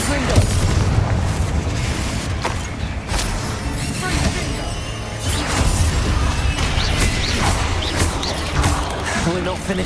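Confringo fire spell explosions in Hogwarts Legacy combat, several booming blasts and crashes over a dense battle din, with a voice speaking under the action.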